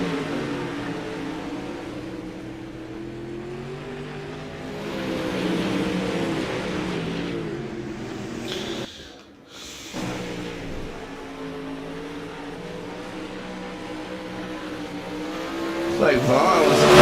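Modified race cars start a dirt-track heat race, engines roaring and revving together in rising, layered tones, dipping briefly midway before surging loudly again as the pack accelerates.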